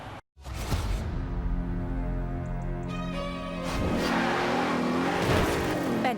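A 2017 Bentley Continental Supersport driving in Forza Horizon 4, its engine droning steadily with rising revs and gear-change pitch shifts, loud and close throughout.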